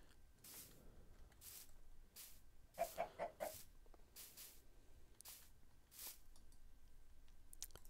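Minecraft chickens cluck in short, separate bursts, with a quick run of several clucks near the middle and quieter calls spread around it, heard alone against a low background.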